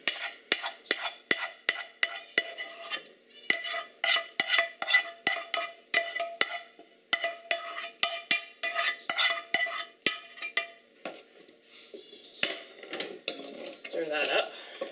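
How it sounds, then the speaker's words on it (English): A spoon stirs onions into a pot of smoky chipotle baked beans, giving a run of close, rhythmic scraping and clinking strokes against the pot that soften into rustling near the end. "Stir that in"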